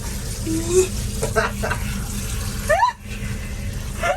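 Tap water runs steadily as a maltipoo gets its first bath inside a camper van, the flow continuing under brief speech and laughter nearby.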